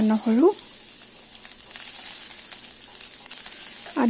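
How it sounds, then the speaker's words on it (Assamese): Cumin, ginger and garlic fry in hot oil in a kadai for palak paneer, a continuous close sizzle and crackle, with a voice talking briefly at the start and end. "নহৰুখিনি অকণমান ভাজি লৈছোঁ"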